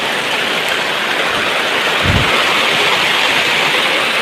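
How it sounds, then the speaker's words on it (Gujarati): Loud, dense rainfall roars continuously, a heavy downpour with a brief low thump partway through. "સારો વરસાદ આવી ગયો છે"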